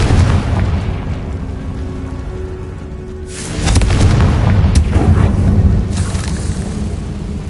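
Fire spell explosions from a Confringo cast in the game Hogwarts Legacy during a goblin mine assault, a dense roaring blast surge that swells midway and rumbles on loudly with crackling bursts.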